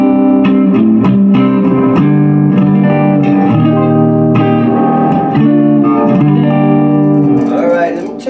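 An inexpensive electric guitar played on its neck pickup through an amplifier with reverb rings out loud and close in sustained chords and picked notes.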